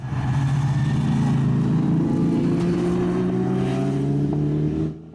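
A sickly Ginetta race car with a misfiring engine at a Kirkistown circuit race meeting gives a loud, sustained engine drone that rises slightly in pitch before cutting off abruptly near the end, with no speech.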